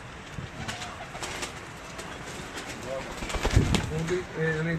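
Pigeons coo softly in a breeder's loft, several low repeated calls over steady background noise, with someone talking throughout.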